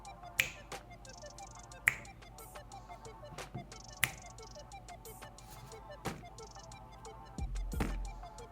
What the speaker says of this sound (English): snapping my fingers